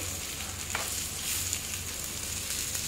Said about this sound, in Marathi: असे पलटी करून घेऊया आणि पुन्हा झाकण न ठेवता 1 मिनिटासाठी भाजून घेऊया